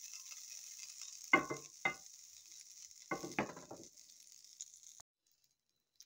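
A teaspoon of butter sizzling in a pan, a thin steady hiss broken by a few louder crackling bursts, then cutting off to near silence.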